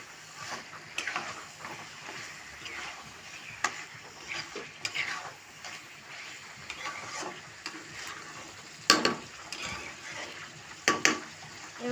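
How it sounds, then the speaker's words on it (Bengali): Meat with spices is stirred and fried in a pan, giving a soft continuous sizzle broken by scraping and stirring strokes, close and fairly quiet. "এবার আমি মাংসের সাথে মশলার সাথে একসাথে মিক্স করে নেব।"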